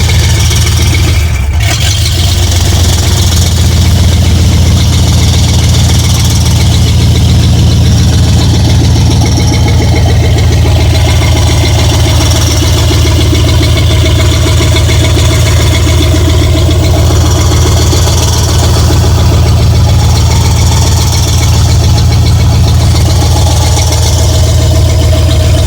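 Classic car engine that had sat for ten years, idling loud and close with a steady low rumble and faint rhythmic ticking that may come from a loose pulley, alone with no talk.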